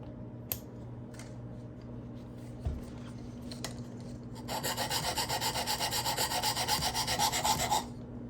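A knife sharpened on a Work Sharp Precision Adjustable sharpener: a few light taps and clicks, then a run of fast, even rasping strokes of blade on abrasive for about three seconds, close and quiet, with no talking.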